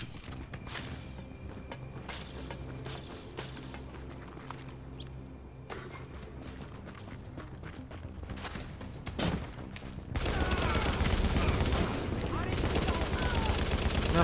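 Rapid bursts of machine gun fire from the video game The Division crackle over game sounds, ending in a loud sustained roar of continuous firing.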